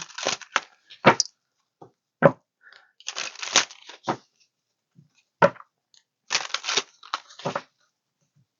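A tarot and oracle card deck is shuffled by hand in short irregular bursts of riffling and flicking cards, close and crisp, separated by brief silent pauses.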